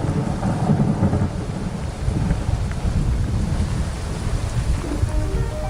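Steady downpour with low rumbling thunder and gusty wind buffeting the microphone, dense and loud throughout with no pauses, in an African desert of giant cacti.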